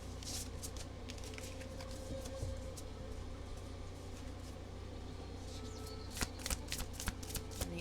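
A Moonology oracle card deck is being shuffled in quiet, soft repeated riffling and sliding bursts, with a faster flurry of sharper card snaps near the end, no one speaking.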